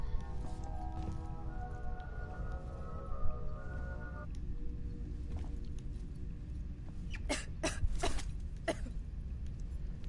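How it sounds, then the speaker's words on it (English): A character in the Alien: Isolation video game coughs in a few short, sharp bursts toward the end, set against a low, steady in-game ambient rumble and hum. "He's coughing."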